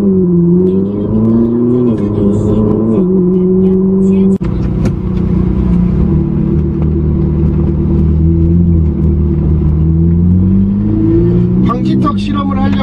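A Ferrari's exhaust note rumbles close and loud while driving slowly through a narrow side street, the engine pitch rising and falling with light throttle as someone talks over it.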